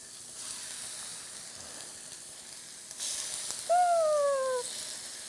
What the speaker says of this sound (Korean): 노릇노릇하게 앞뒤로 구워보도록 할게요.